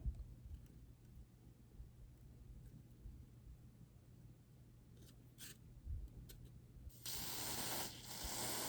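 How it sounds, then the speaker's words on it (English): Freeze spray hissing onto a chocolate figurine in a short burst toward the end, preceded by quiet handling clicks and faint rustling. "I've got some freeze spray here. I'm gonna bless that real quick."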